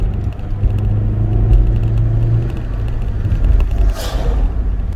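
Rover K-series car engine, running while the car is driven, gives a steady low rumble inside the cabin with a slight rise in revs, constant road noise and no talking.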